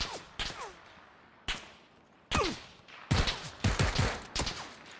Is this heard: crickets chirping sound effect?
no